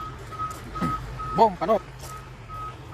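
A delivery truck backs up at a construction site, its reversing beeper sounding in a few spaced tones while engine rumble runs underneath and people talk nearby.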